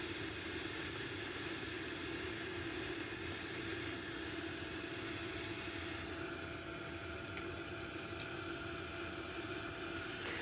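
A Boeing 787 airliner cruises at about 29,000 feet, with a steady, even roar of engines and airflow heard from inside the aircraft, faint and unbroken throughout.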